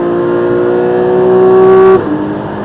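A race car at Silverstone circuit, its engine holding a loud, steady high-pitched tone that rises slightly before dropping abruptly as the driver lifts off, heard close from the cockpit.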